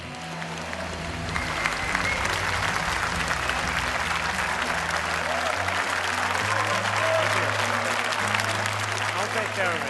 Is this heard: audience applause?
yes